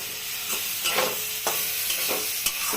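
Drumstick flowers, potato and eggplant curry being stirred in a pan: a spoon scrapes repeatedly in irregular strokes over a steady, close sizzle, with no talking.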